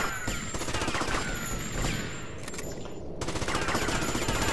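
Rapid automatic gunfire in the video game GTA Vice City, with dense, continuous bursts close and loud from start to finish.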